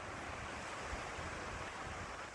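Steady broadband surf washes along a long beach at Somerton Park, South Australia, with continuous wind and wave noise and no distinct breaks, close and fairly loud throughout.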